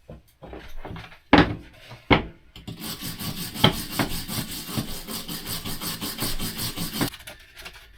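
Sandpaper at 220 grit scrubbing a truck pedal assembly on a 1986 Ford F250: a few sharp rubbing strokes, then a long, steady, loud scraping stretch up close. No voices.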